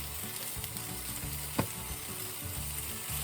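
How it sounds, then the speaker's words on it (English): Onions near caramelized with garlic added, frying in a pan at home: a steady, close, moderately loud sizzle with one brief sharp clink midway and no talk. "my onions are almost getting caramelized. I'm fixing to put my garlic in it."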